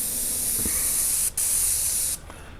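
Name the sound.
paint sprayer spraying coat on cinder block wall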